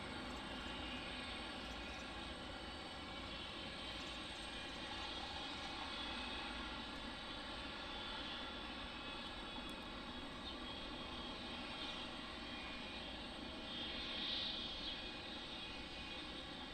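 Steady jet aircraft engine roar at Detroit Metropolitan Wayne County Airport, with 757s and 717s nearby, a continuous broad rumble holding at a constant, moderately distant level with no talk over it.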